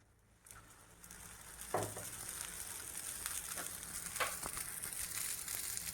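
A green gram dosa cooks on a pan with a low, steady sizzle that slowly grows, with a few faint scrapes and taps from a spatula.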